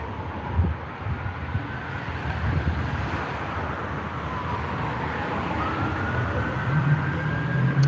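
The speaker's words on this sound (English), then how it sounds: "Got a bunch of sirens out here." Emergency vehicle sirens wail through busy Cincinnati streets at night, a rising and falling tone under a constant wash of traffic and wind noise, moderately distant and sustained.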